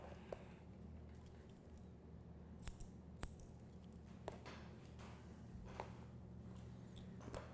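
Scissors make a few faint, crisp snips while cutting hair horizontally during a men's long-to-short haircut, scattered over a quiet, low room hum.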